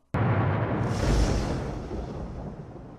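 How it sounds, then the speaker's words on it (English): A sudden deep thunder-like boom opens a weekend sports broadcast segment, a single loud rumble that swells and then slowly rolls away and fades over a few seconds. "the sound of thunder that you hear"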